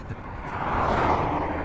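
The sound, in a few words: Porsche cars driving past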